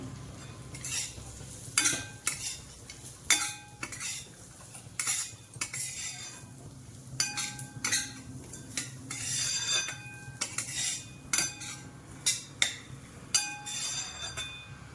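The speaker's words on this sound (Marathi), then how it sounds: "चांगला असं तूप टाकून खरपूस भाजायचं" Dough roasting in ghee in a pan while a metal spoon stirs it, giving repeated sharp clinks and scrapes against the pan in an irregular rhythm over a quiet sizzle.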